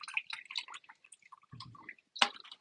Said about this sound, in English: I pour a little water in and do one more strain